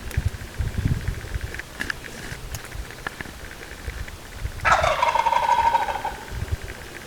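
A wild turkey tom lets out a loud, rattling gobble partway through, a rapid descending burst that stands out over soft outdoor rustling and a few faint thumps.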